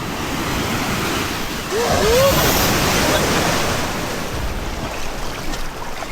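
Ocean waves roll onto Wailea beach in Maui, a steady close rush of surf and wind with a brief swell of louder water midway and no talking.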